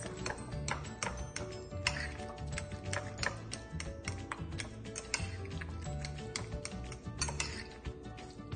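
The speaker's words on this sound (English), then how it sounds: "And we mix." Ricotta and egg filling being stirred in a bowl for ravioli, with steady clicking and tapping of a utensil against the bowl, close and moderately quiet, no voices.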